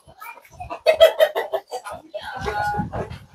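Chickens of mixed breeds cluck and call in short, close bursts on a farm, then a longer raised squawk, with people talking nearby.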